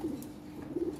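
A pair of Lahori Siraji pigeons, golden dun in colour, held for sale, gives two short, close, soft coos with a brief gap between them.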